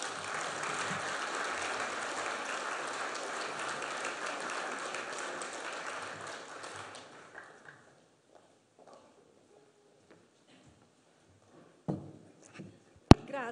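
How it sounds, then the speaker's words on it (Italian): Applause from a conference audience marking World Pediatric Cancer Day in Rome, a sustained round of clapping that fades out after about seven seconds, followed by near silence and a few faint knocks. "un applauso ai bambini, ai genitori, a tutti coloro che insieme a loro combattono"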